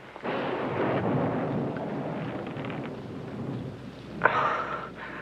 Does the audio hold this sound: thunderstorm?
yes